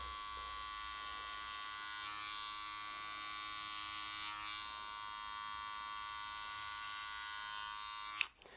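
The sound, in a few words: electric hair clipper cutting hair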